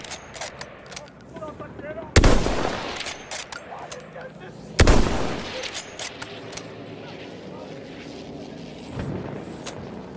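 Gunfire in the World War I shooter Battlefield 1, two loud sharp blasts among scattered shots and rumbling battlefield ambience, with distant chatter in the background.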